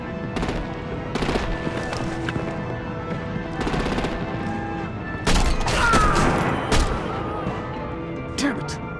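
Artillery and heavy gunfire aimed at vehicles in Batman: The Enemy Within, loud repeated bursts and booms over a constant rumbling din, with a heavier impact midway.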